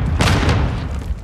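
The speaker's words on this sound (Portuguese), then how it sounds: "Jogando granada! Jogando granada! Granada lançada!" A grenade explosion in Call of Duty: Warzone 2.0, a heavy low boom with rumbling tail that fades over about a second.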